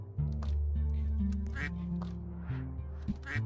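Repeated cartoonish quacks from a bird character in a Roblox obby game, loud and close, over a steady game music bed with no talking.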